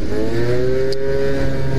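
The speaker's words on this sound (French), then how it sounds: "c'est un pot qui fait un beau bruit, qui a l'air d'améliorer un peu les performances du scoot" A Zip 50cc scooter fitted with an aftermarket exhaust pipe revving, a loud, close, sustained engine drone with a slightly rising pitch and no talking.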